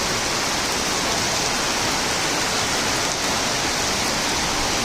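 Heavy rain pouring down steadily at midday in Chandraghona, Bangladesh: a dense, constant wash of hiss with no pauses, loud and close, and no voices over it.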